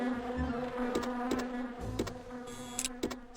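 Bees in the PS1 video game The Grinch buzz steadily near a beehive, a close, continuous drone with sharp game clicks and effects cutting in at intervals.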